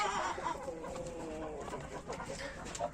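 Silver Sebright hens cluck softly in a busy ornamental chicken coop, scattered short calls over a constant rustling background at moderate distance.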